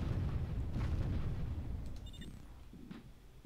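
Explosions from bombers in the Warzone 2100 strategy game, a dense rumbling low-end barrage of booms and blasts that rolls on loudly, then eases and fades over a few seconds, with a brief bright electronic tone overhead.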